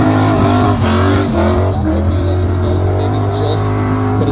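A BMW E46 drift car's engine drones loudly and steadily at a Bishopscourt drift event, its tone rising and falling slightly as it holds revs.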